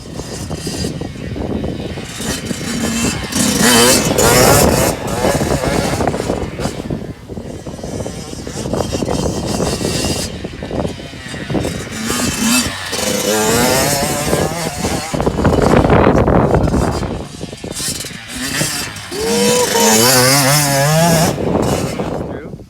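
A motocross motorcycle ridden during a one-on-one private riding lesson, its engine snarling and revving up and down continuously and loudly, with speech heard at times.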